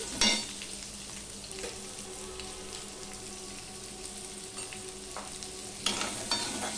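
Salted potatoes fry in oil in a pan with a soft, continuous sizzle, punctuated by a few brief scraping stirs near the start and end, close and fairly quiet.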